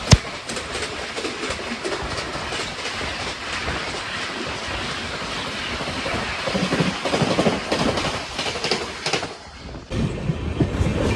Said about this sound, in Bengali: দ্রুত গতিতে 130 কিলোমিটার গতিতে কোনো একটা ট্রেন পাস হচ্ছে।